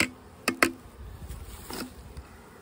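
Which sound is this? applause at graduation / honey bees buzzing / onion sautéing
honey bees buzzing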